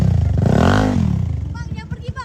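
A motorcycle fitted with an aftermarket exhaust revs once in a loud rising and falling roar close by, then drops to a rough, pulsing idle burble.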